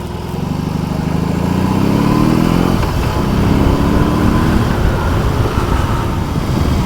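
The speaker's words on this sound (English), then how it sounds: "It's got a lovely little pop and overrun." A BMW R18 Bagger motorcycle engine, loud and close, revs and then falls back, its exhaust popping and crackling on the overrun with no voices over it.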